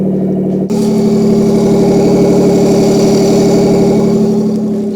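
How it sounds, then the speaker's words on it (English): A 1997 Ford Probe GT engine starts up and runs loud and steady close by, a sustained rough idle with a throbbing pulse and no voices. "So it actually runs great now. Let me show you."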